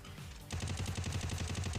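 A steady burst of rapid machine gun fire in a video game erupts after a brief lull, loud and rhythmic, with sharp repeated shots.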